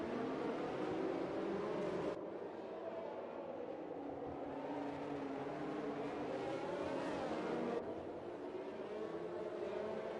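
Formula 1 cars racing in the F1 2020 video game at the Azerbaijan round, a steady, loud, continuous engine drone with shifting pitch and a sharp change in tone partway through, no talk over it.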